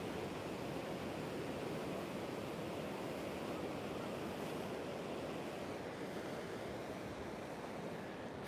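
Ocean waves wash steadily onto an oceanfront beach with a light sea breeze, a constant soft surf roar with no talking.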